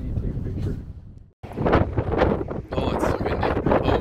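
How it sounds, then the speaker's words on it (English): Strong wind buffets the microphone along the Camino to Muxía, a loud continuous rumble with a brief drop around the middle before the gusting resumes. "Oh, it's so windy."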